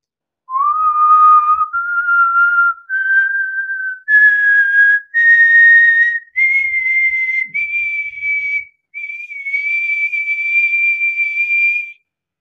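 A man whistles a raga-style melody by mouth, phrases stepping gradually upward in pitch with clear gliding notes and short pauses, loud, close and alone.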